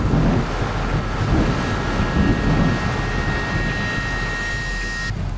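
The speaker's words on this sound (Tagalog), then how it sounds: "Pero sa labas, pabugso-bugso pa rin yung lakas ng ulan tsaka hangin." Strong gusts of wind and heavy rain during a storm roar steadily and loudly outdoors, a dense broadband rush with slight surges and a thin whine near the end.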